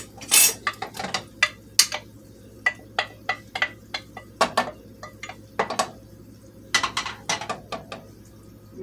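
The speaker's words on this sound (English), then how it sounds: "I'm gonna put this in the pan." Frozen mixed berries, strawberries, blueberries and raspberries, tumble into a pan as a string of sharp clattering clicks and knocks, close and irregular, with brief quiet gaps between bursts.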